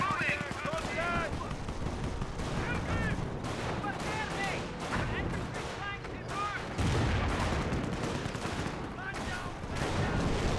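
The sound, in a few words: mortar shell hitting, from video game Company of Heroes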